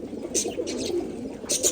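Pigeons coo in a steady, close chorus just after being let out into their loft, with bright flutters and calls rising over the low murmuring throughout.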